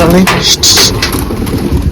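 Pigeons coo briefly at close range beneath a voice that talks over them.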